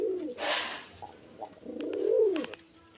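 Pigeons kept for sale at a home in Beldanga coo nearby in soft, rolling phrases, with a brief flutter or rustle between the first coo and a longer, swelling run of cooing.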